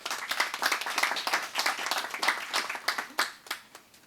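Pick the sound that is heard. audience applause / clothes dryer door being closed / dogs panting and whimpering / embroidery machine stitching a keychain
audience applause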